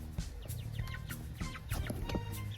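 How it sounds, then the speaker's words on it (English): Chickens cluck and ducks call together in a straw-bedded coop, with frequent overlapping short clucks and chirps at moderate distance. "there are my ducks and chickens"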